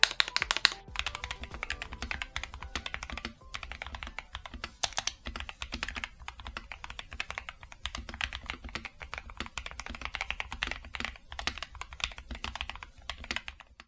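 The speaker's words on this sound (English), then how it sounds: "This keyboard sounds so good." Someone types quickly on a modded budget gaming keyboard, a dense and continuous run of crisp key clacks at close range with short pauses between bursts.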